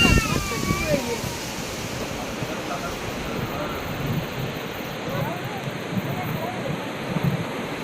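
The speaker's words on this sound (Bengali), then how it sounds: "ভাত হতে না হতে ঝড় বৃষ্টি, পুরো বৃষ্টিটা হচ্ছে না, ঝড়টা শুরু হয়ে গিয়েছে।" Storm wind blows outdoors before rain, a broad rushing roar that stays fairly faint and even, with a voice briefly heard at the start.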